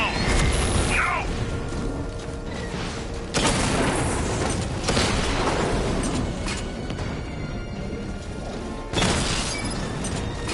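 Drone machines attacking in the Batman Arkham Knight game, with loud mechanical clanking and whirring broken by several heavy booming impacts, dense and close throughout.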